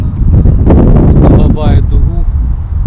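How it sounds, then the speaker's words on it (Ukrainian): Strong wind buffets the microphone beside a river during spring shore fishing, a loud continuous roar with gusty surges lasting throughout. "вітер в лице"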